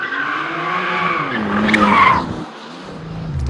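A BMW sports car slides its tail out through a bend, tires squealing and skidding over a strained engine note, rising to a peak mid-clip before easing off.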